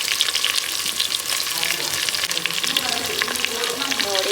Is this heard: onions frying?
yes